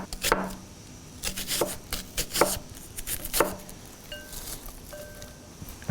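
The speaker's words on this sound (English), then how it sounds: "a quarter of a red onion that I'm gonna slice just really thinly" A knife slices a quarter of a red onion very thinly on a cutting board, giving a run of quick, crisp chops in uneven bursts, close and moderately quiet, with a few faint clinks near the end.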